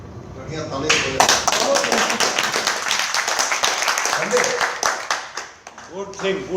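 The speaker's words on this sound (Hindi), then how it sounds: "बढ़िया ताली" Audience clapping fills a motivational sales training session for engineers, dense sharp hand claps building quickly, staying loud, then thinning out near the end while a voice speaks over it.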